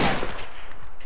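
A quick burst of gunfire in a video game: several sharp, loud shots fired close together, then fading within about a second.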